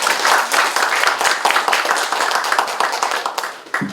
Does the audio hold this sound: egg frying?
no